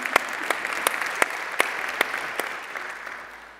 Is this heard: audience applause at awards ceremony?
yes